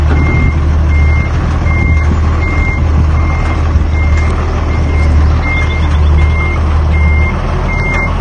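A twelve-metre tow truck reverses with its alarm beeping in a steady, evenly spaced pattern over a loud, constant diesel engine rumble close by, with no talking.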